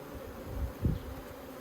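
Honey bees buzz softly around an open hive nucleus in an Australian apiary. A low, continuous hum swells briefly as a bee passes close, with no voices.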